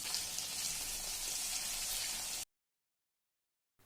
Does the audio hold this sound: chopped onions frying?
yes